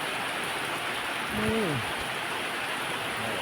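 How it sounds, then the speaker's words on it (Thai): Steady, dense rain hisses continuously across the whole stretch, with a brief voice sounding in the middle over the downpour. "ฝนตกอีกแล้ว"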